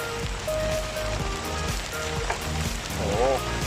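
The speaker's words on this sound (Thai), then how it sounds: "ฝนตกแล้วครับ อันนี้ตกจริงแล้วครับรอบนี้" Rain falling steadily outdoors during a shrimp-trapping outing, a dense even patter, with a man's brief exclamation and some background noise mixed in.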